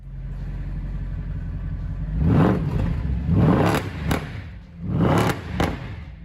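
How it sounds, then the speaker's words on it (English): The V8 engine of a Mercedes SL63 AMG revs in three quick throttle blips from a deep idle, each rising sharply then falling back with a burbling rumble, close and loud. "Blip the throttle, the revs rise instantly before falling back with a satisfying burble."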